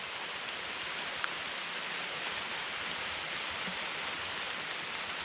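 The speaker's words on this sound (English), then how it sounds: "it just started raining again" Rain falls on a campsite in Virginia's backcountry as a dense, even hiss with occasional faint droplet ticks, steady and unbroken with no voices.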